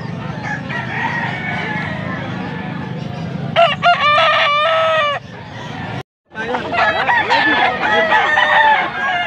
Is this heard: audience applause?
no